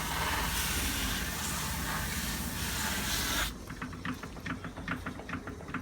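A motorized buffing wheel works a leather edge, first a loud steady whirring roar, then abruptly dropping to a quieter, uneven rhythmic rubbing as the motor bogs under hard pressure.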